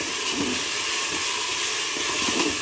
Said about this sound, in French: Je fais revenir tout ça.